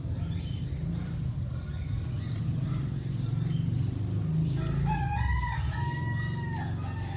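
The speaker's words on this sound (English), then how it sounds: "rooster making noise in the morning" A rooster crows in the morning, a drawn-out cock-a-doodle-doo at mid distance over steady outdoor ambience with faint insect chirping.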